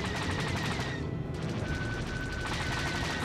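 Rapid bursts of blaster gunfire crackle in dense repeated volleys during a Star Wars: The Old Republic firefight, loud and continuous for a few seconds with a brief gap midway and no talking.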